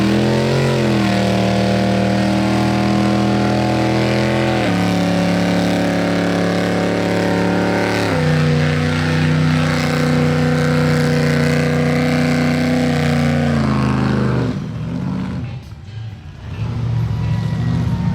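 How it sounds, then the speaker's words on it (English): A one-owner 1969 Dodge Charger's engine runs loud and close, its steady drone stepping up and down in revs several times before briefly dipping near the end and picking back up. "Let's get this car running again."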